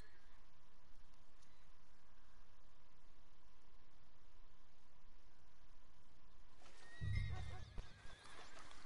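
A horse in the video game Red Dead Redemption 2 whinnies near the end, a short loud neigh after a long stretch of steady low ambient hiss.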